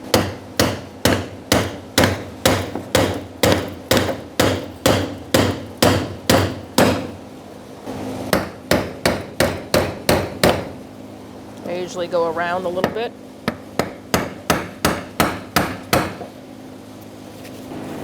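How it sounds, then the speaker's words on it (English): Brass tap hammered against the fuel pump lock ring of a Ford Expedition, a steady run of sharp metallic knocks in quick even bursts, pausing briefly while someone speaks, then resuming. "Now you're going to use your brass tap and just tap it in."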